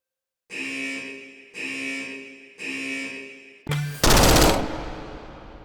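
A Gun-Kata Trainer in H3VR sounds three evenly spaced tonal warning beeps, then a short buzz and a loud burst of gunfire that decays away.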